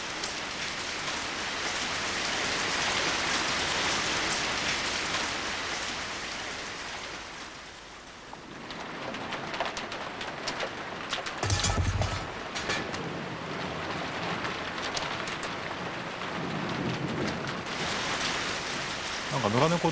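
Steady rain falls in a film while a stray cat shelters from it, making a continuous hiss of drops that dips briefly and then returns at full strength.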